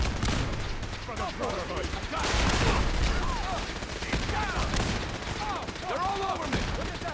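Rapid bursts of Fallout 4 gunfire crackle steadily in a chaotic battle at Bunker Hill, a shouted voice rising over the shots while laser-like chirps and bursts recur throughout.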